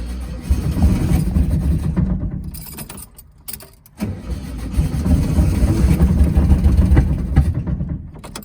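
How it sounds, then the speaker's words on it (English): A 1971 VW Karmann Ghia engine runs loudly up close, sputters and nearly dies around the middle, then cranks and catches again into a rough, uneven idle. "So a bit of sputtering."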